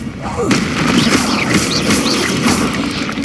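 A fire spell blasts out in Hogwarts Legacy as a dense, roaring whoosh that rises at once and sustains at high level for about three seconds, with crackling bursts and brief swooshing sweeps layered through it.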